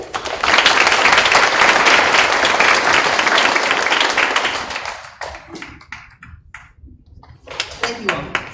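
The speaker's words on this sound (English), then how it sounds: "Let's give a round of applause for all of our 6th grade students." Audience applause at a school board meeting fills the room, a dense burst of many hands clapping at once that thins out into scattered claps and fades before a brief pickup.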